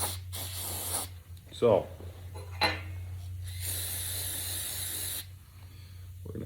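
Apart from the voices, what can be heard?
spraying acetone cleaner on cast iron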